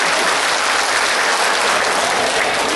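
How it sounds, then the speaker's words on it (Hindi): Loud, dense applause from a large mushaira audience at the Red Fort, a continuous wash of clapping sustained at even volume throughout. "एक बार मुझे हुक्म दीजिए तालियां बजा के"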